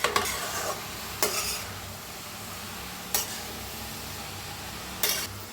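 Shredded cabbage dry-roasting in a pan for a Maharashtrian-style patta gobhi sabzi, with a spoon scraping and stirring in four separate bursts over a low steady sizzle, close and fairly quiet.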